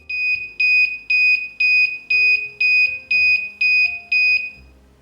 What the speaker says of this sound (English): the server will sound the humidity alarm